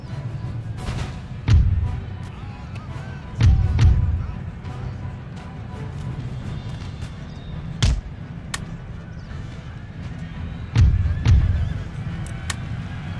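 A horse neighs a few times amid battle noise in Empire: Total War multiplayer, with sharp gunshot-like rifle cracks and a steady low rumble underneath.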